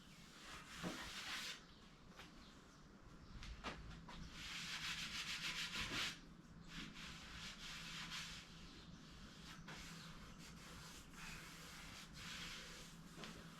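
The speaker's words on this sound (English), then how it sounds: "I got a lot of sanding to do" Sanding on the body of an MGB during an LS V8 engine swap, heard as a steady run of rough rubbing strokes. The scratching is fairly faint, continuous and textured, with no talking.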